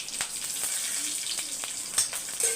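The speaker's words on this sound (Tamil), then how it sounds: "இப்போ வந்து உருளைக்கிழங்கை வறுத்துக்கலாம். கொஞ்சம் சோம்பு, பிரிஞ்சி இலை, பச்சை மிளகாய், கருவேப்பிலை" Potatoes frying in a pan with fennel seeds, bay leaf, green chilli and curry leaves: a steady, close sizzle with scattered sharp pops and crackles, no voice.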